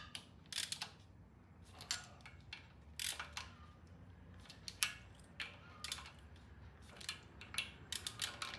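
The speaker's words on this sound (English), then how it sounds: "I'm using a short handle ratchet on purpose" Short-handled ratchet on the timing cover bolts of a Norton motorcycle, with quick bursts of clicking pawl strokes repeating at close range over a quiet background.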